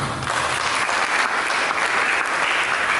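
A large church congregation claps loudly and continuously during a sermon, a dense sustained roar of applause from start to finish.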